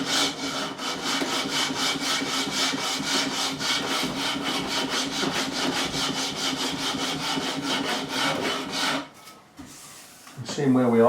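Bass guitar neck being sanded with a grit levelling beam, rapid rhythmic back-and-forth rasping strokes, close and steady, ending in a pause and handling noise, with a voice heard faintly.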